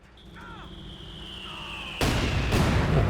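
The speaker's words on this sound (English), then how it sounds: "mortar pit doing some nasty damage. Looks like he ran over the mine as well." Company of Heroes 2 battle: a long falling whistle from a mortar pit shell, then two loud, close blasts as a mine explodes, filling the last second with rumbling debris.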